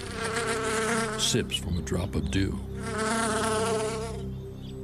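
A bee buzzes steadily and close, a droning hum that thins briefly in the middle before swelling again, with a faint narrating voice barely present.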